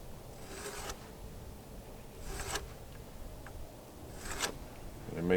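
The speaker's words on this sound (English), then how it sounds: "And I make that mark." Three faint, brief scratching strokes come at even intervals as a mark is drawn on a timber rafter for a timber-frame barn, quiet against a soft background hush.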